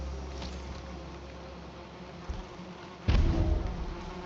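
Bees buzz steadily in the video game Valheim, a continuous insect drone with a sudden louder burst near the end, no one speaking.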